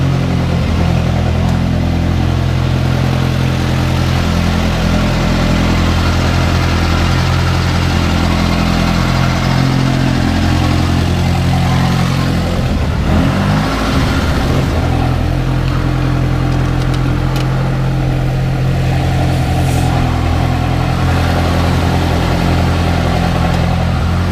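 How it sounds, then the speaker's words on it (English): A turbocharged BMW E36 engine runs loud and close throughout, with a steady throaty drone and a brief shift in tone around the middle as it revs and the turbo spools down. No one speaks. "The spool down of the turbo, did you hear it?"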